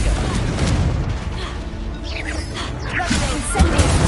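A Confringo explosive spell going off in Hogwarts Legacy, heard as booming blasts and whooshing impacts over a busy combat din, with a player's voice speaking briefly.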